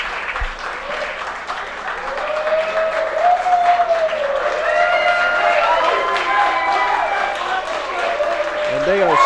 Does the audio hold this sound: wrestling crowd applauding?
yes